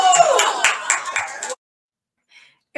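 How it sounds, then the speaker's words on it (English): People in a room clapping together in a dense burst of applause for about a second and a half before it cuts off into silence. "Everybody's clapping."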